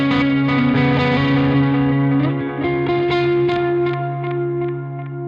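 An electric guitar played through a single-mode delay plugin rings out in sustained, distorted chords with echoing repeats trailing behind each note, loud and close, with no talk.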